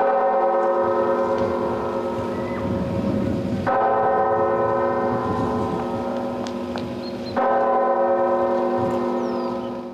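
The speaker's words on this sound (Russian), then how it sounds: "Участники церемонии почтили память погибших минутой молчания, которую отсчитал главный колокол Георгиевского храма." The main bell of a Russian Orthodox church of St. George tolls for a minute of silence at a memorial ceremony. Loud, ringing strikes sound with long, humming decay, and a fresh stroke lands about every four seconds. No voices are heard.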